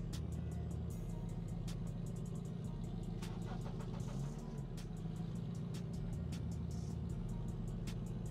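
A car's engine roars steadily and close by as it is pushed hard, its revving drone holding nearly constant with a brief dip midway, while a car tries to drive over hockey pucks.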